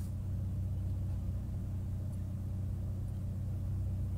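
Steady low engine rumble heard from inside a car, a constant droning hum at moderate level with no talking over it.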